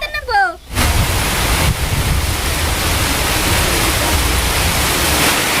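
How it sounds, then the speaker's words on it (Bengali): Heavy rain pours down in a dense, steady roar that fills the scene, with a voice heard briefly at the very start. "আল্লাহর রহমতের বৃষ্টি।"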